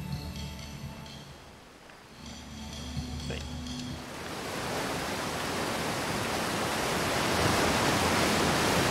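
Rushing waterfall in the video game Outer Wilds, a broad steady roar of falling water that swells and grows louder over the second half, with faint game tones and a voice briefly present early on.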